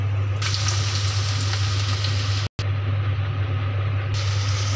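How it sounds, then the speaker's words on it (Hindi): Onions frying in hot mustard oil in a kadhai give a loud, continuous sizzle and crackle close by, with a steady low hum underneath and a momentary dropout midway. "तेल मेरा अच्छे से गर्म हो गया है अब मैं इसमें प्याज डालती हूँ"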